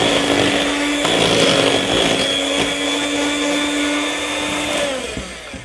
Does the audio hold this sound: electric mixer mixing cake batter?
yes